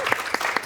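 Short burst of audience clapping at an immersive theatre show, three or four distinct claps standing out over a thin spread of applause, brief and fairly close.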